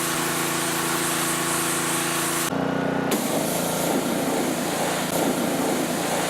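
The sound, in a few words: Troybilt pressure washer spraying water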